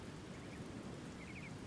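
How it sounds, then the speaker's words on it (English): A heavy downpour of rain in the video game Medieval Total War: Viking Invasion, a steady dense hiss throughout, with a few faint high chirps over it and no voices. "Heavy downpour becoming calmer later on"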